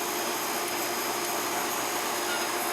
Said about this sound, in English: We're going to turn on the pool cleaner.